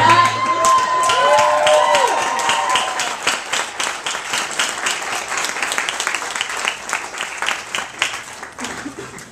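A graduation audience at an architecture school ceremony applauds historians and planners, a dense burst of clapping with some cheering that swells loudly at first, then thins into scattered claps as it tapers off.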